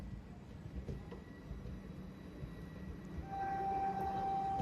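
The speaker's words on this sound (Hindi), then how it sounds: "सावंतवाड़ी दादर तुतारी एक्सप्रेस डिपार्ट हो रही है कनकावली में" Sawantwadi–Dadar Tutari Express, a daily train, pulls out of Kankavli station at night on the Konkan Railway in monsoon weather, a steady rumble of wheels and wagons building in loudness, with a sustained tonal whine or horn-like note joining near the end.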